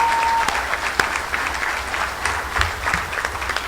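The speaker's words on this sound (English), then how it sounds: "So he deserves a huge round of applause." An audience at a Pinellas GOP meeting gives the governor a sustained round of applause, dense steady clapping filling the room throughout, with a few brief cheers.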